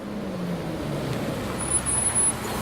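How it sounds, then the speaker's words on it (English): A bus engine idling and rumbling in the visual novel Everlasting Summer, a steady low drone of moderate loudness with slight swells and no voices. "The sound of engine brought me back to reality."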